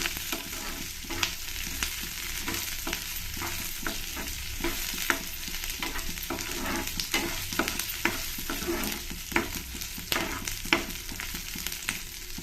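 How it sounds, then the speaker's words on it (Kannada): Ingredients for a tomato gravy fry in a pan with a steady, close sizzle, broken by frequent scraping stirs of a spoon at an irregular rhythm, with no voices. "ಇದನ್ನೆಲ್ಲ ಒಂದು ಸ್ವಲ್ಪ ಫ್ರೈ ಮಾಡ್ಕೊಳ್ತೀನಿ ತುಂಬ ಹೊತ್ತೇನಿಲ್ಲ ಸುಮ್ಮನೆ ಒಂದು ಸ್ವಲ್ಪ ಫ್ರೈ ಮಾಡಿಕೊಂಡ್ರೆ ಸಾಕು"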